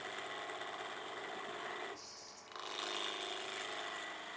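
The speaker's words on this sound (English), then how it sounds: "I'm going to start with my skew chisel." A wood lathe turning at about 1500 rpm while a skew chisel takes a peeling cut, a steady whirring hum with a shaving hiss that briefly dips and then returns, close and continuous.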